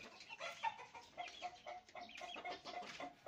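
A hen clucking and cackling after laying an egg, a close, lively run of repeated clucks with a few sharper calls, heard alone over a few seconds.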